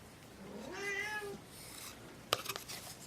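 A pet cat meows once in a long, drawn-out call that rises and falls, fairly close, followed by a few brief knocks and clatters.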